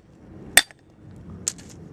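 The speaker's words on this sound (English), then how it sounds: "Now when I smack it with my hammer, it's going to crack because it's brittle." Two sharp metallic hammer smacks on a brittle, cut wheel bearing race on a 2004 Nissan Maxima hub, one at a time with a short pause between, the first strike louder.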